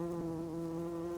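A steady, close housefly buzz drones continuously without pause, a humming insect drone used as a cartoon sound effect, with no voices over it.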